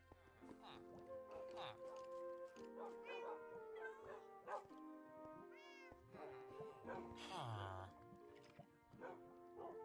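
A Minecraft cat meows repeatedly in a string of plaintive calls, mixed with yips and someone talking over the game's background sound.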